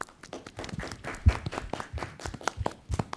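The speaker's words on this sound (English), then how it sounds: "can we have a round of applause for you?" A round of applause from the audience at an analytics and big data summit in Bangalore, scattered claps of moderate density, fairly soft and uneven.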